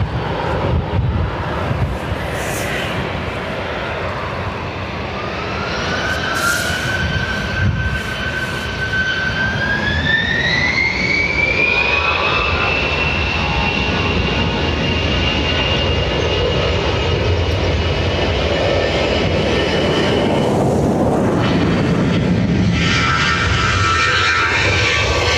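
An Aer Lingus jet departs Dublin Airport for Naples, giving a loud sustained engine roar with a high whine that climbs and then levels off as thrust builds, continuing strongly to the end.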